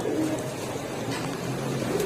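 Giribaz pigeons at a pigeon seller's stall coo in soft, low, throaty murmurs that keep going over a steady background hum, close by and with no talking.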